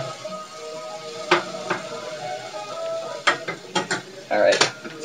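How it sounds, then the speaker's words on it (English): Portobello mushrooms sizzle in a pan with pepper, a soft steady crackle under occasional sharp clinks and scrapes of a utensil against the pan. "Hear the mushroom sizzling away."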